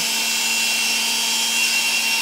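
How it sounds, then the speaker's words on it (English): A corded electric drill runs steadily at full speed, a continuous high whine with a constant motor hum, close and loud, with no pauses or speech. "See, the drill works."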